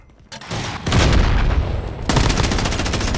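Loud, dense shotgun fire in Call of Duty Modern Warfare, a 2v2 match, with booming blasts and sustained gunfire filling the whole stretch, no talk.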